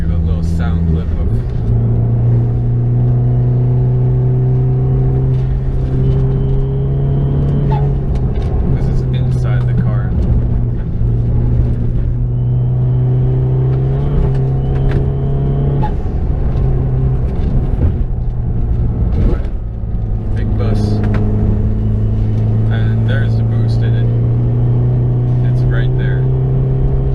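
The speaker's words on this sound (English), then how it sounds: "the turbo, as it's spooling up, it makes a nice whistle" A Dodge Dart with a 1.4-litre turbocharged engine drones loudly and steadily, its pitch shifting as it accelerates, with brief thin whistles from the spooling turbo riding over the engine note.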